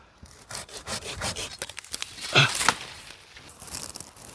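A hand saw cuts through a tree branch during pruning of the main trunk, with rapid rasping back-and-forth strokes and a louder burst midway as the blade bites into the wood.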